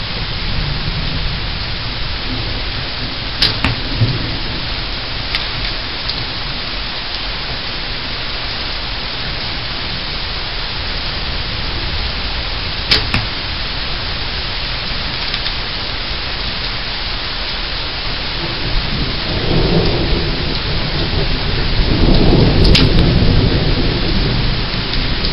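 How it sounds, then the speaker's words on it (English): Steady rain pours outdoors at an archery range with a few thunder rolls and sharp cracks rising out of the hiss; heavier rumbling swells near the end, and no one speaks. "Now it's raining, I don't want to take my camera out there"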